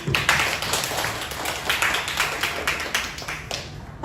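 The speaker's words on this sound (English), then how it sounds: "please can I have a round of applause to welcome both teams" A crowd applauds to welcome two debate teams at a student debate competition, a dense, steady wash of many hands clapping throughout, fairly loud and close with no talking.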